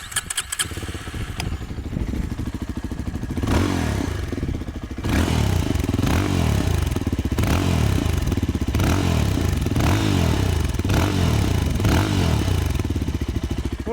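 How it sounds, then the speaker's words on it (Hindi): A Yezdi Scrambler motorcycle with an unmodified exhaust, heard close-up as it starts, idles with a thumping rhythm, then revs in several throaty blips over a continuous low rumble. "अब सुनते हैं SD स्क्रैम्बलर का एक बार एग्जॉस्ट।"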